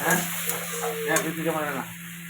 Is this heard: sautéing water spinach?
yes